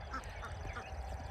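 Ducks quack in short repeated calls around a backyard coop, mixed with chickens, heard at moderate distance over a steady low rumble of background noise.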